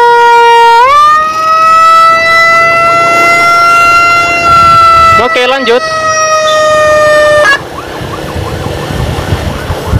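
An ambulance siren wails loud and close in a steady rising-and-holding tone, with a brief warble midway before cutting off near the end; someone talks over it.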